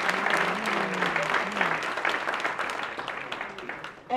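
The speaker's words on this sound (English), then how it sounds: "please give them another round of applause" Applause for a group of ladies at a 2018 white party gala, a steady wash of clapping lasting about four seconds with some crowd voices mixed in, fading slightly near the end.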